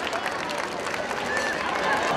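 An audience at a Janmashtami celebration at a Krishna temple in Gurgaon claps steadily to welcome child performers, a dense, even wash of applause mixed with crowd murmur.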